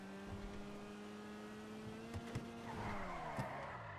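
A car sliding and skidding in the video game GTA V, with a steady engine drone and a tire squeal that swells toward the end, plus a few sharp knocks, all fairly quiet.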